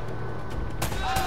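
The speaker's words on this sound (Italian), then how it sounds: "C'è tanta sparatoria" In Uncharted, a few sharp gunshot bursts crack out near the end of a short stretch of low background rumble.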